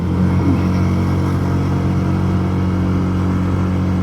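Manual motorcycle engine labouring steadily in low gear up a steep road near a villa resort in Sapang Bato, Angeles City, a loud continuous close rumble throughout with no talk.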